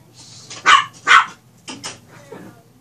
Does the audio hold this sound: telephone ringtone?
no